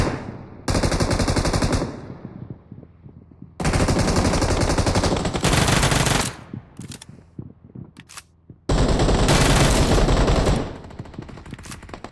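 Rapid automatic gunfire from a close-range firefight in a video game, coming in three long dense bursts with a few scattered single shots between them. Loud and close, with no talking.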